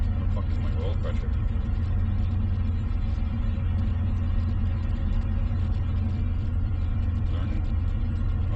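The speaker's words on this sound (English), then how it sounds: "I just wanted to show you that exhaust cutout. It's working" Car exhaust rumbles steadily through a Summit Racing exhaust cutout, a loud, continuous low idle drone with no letup from start to finish and no talk over it.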